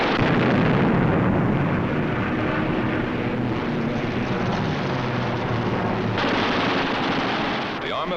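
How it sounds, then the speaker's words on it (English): A WWII fighter plane fires its eight machine guns, a dense roaring burst of gunfire mixed with engine noise, loud and continuous with a harsh, old recorded quality. "With the touch of the finger on the stick, a camera and 8 machine guns are put into action"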